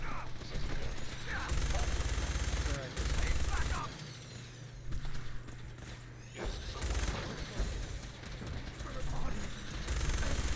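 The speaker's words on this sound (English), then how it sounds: "I'm shooting the wrong one." Gunfire in Fallout 4 comes in repeated bursts of rapid shots across a busy game battle, with a voice speaking over the action.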